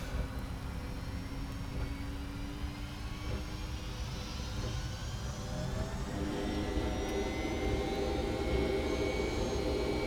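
Boeing 767 jet engines spooling up for takeoff in the FlightFactor flight simulator game, a steady broad roar with a slowly rising whine that builds gently in loudness over ten seconds, with no talk.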